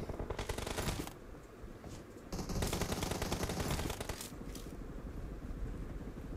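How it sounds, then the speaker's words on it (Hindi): Rapid automatic gunfire in the mobile battle-royale game PUBG Mobile, dense bursts of crackling shots running almost continuously, with a brief lull near the start and a softer tail. "ये पता नहीं कौन सी गन चला रहे"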